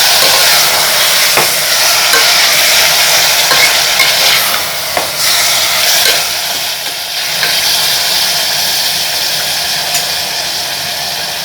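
Cut chicken pieces frying in hot oil for a Tamil-style chicken kurma, a steady close broadband sizzle with occasional stirring clicks, continuous and without talk.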